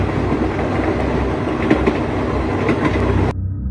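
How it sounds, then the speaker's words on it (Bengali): A departing train as a horror drama sound effect: steady rumble and rhythmic clickety-clack of wheels on rails, loud and close, cutting off abruptly at the end, no speech. "লাস্ট ট্রেনটাও বেরিয়ে যায় চোখের সামনে থেকে"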